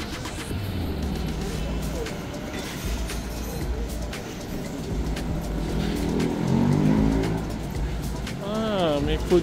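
Heavy traffic crawls along Session Road in Baguio, with engines rumbling and revving, occasional horns and passing vehicles under steady talk.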